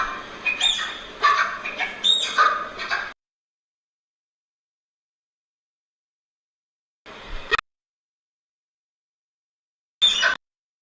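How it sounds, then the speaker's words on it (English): Birds call outdoors in a few short bursts of squawks and chirps, the first burst lasting a few seconds, then two brief calls after long silence, no talking. "Those are birds."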